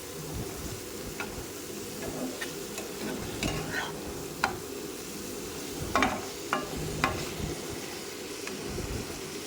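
Pieces of rohu fish are stirred with spices in a frying pan, a steady low sizzle broken by repeated scraping taps of the spatula against the pan, heard up close with no talking.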